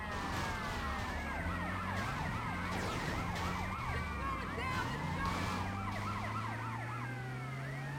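Police sirens wail in GTA Vice City gameplay, several overlapping rising and falling tones with a low engine drone beneath, heard moderately loud and continuous.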